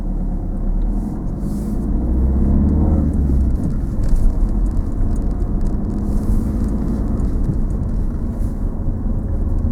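A car passes behind a learner car pulled over at the roadside, a steady low engine and tyre rumble heard from inside the cabin, swelling slightly as it goes by.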